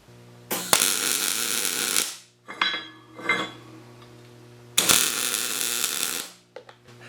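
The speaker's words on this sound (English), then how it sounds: "go ahead and weld these all on" Welding steel uprights onto an 18-foot trailer gives two long crackling, sizzling bursts of arc noise, each about one and a half seconds, separated by a few short sputtering taps, close and loud over a faint hum.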